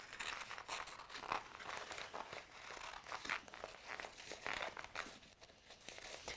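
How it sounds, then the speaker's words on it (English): Paper scissors rough-cutting around a traced textile template, giving close, continuous crisp snipping and crinkling of paper with no talk. "you will then get your paper scissors and you will rough cut round this"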